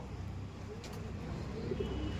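Giribaz pigeons coo softly in a loft, their low, faint murmuring running on continuously against a quiet background.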